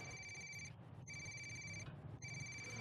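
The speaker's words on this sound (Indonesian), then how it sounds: "Ada juga yang mau nelpon." A phone ringtone plays in repeated bursts of bright electronic tones, three rings with short gaps, over a low background hum, fairly quiet and with no talking.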